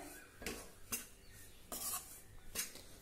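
Finger millet flour roasting on a low flame, heard as a quiet dry hiss with four distinct scraping strokes of a spoon against the pan, spaced evenly and close up, no talking.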